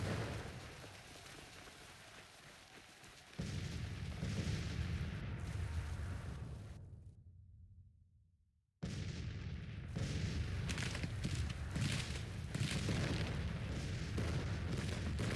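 Cannon artillery from a Grand Tactician Civil War battle rumbles as a dense, continuous roll of distant booms, briefly dropping away to near silence before resuming at full strength.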